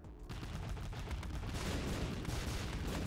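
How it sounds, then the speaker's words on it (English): Bombing in a video game: a dense, continuous barrage of explosive blasts and rapid crackling bursts that keeps up without a break, fairly faint overall and with no talking. "I'm gonna bomb it some more."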